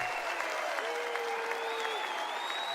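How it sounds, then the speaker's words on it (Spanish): A crowd at a Fortnite FNCS Global Championship final breaks into steady applause, dense clapping that fills the space throughout, with a voice and tonal sounds faintly over it. "Te aplaudimos para que te vayas"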